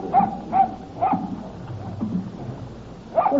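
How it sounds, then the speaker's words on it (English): A dog digging at a farm barks four times, three quick barks and then one more after a pause, at a moderate distance over a low background rumble. "Whose dog is this?"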